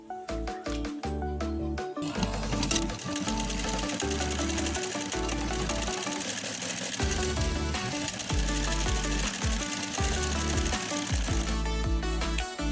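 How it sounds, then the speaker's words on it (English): A sewing machine stitches a folded edge of apron fabric with a fast, continuous mechanical whir. It runs steadily, close up, alongside a tonal, musical layer, and no one speaks. "Now I'm just going to fold this over and stitch, leaving out the section which will be attached to the waist"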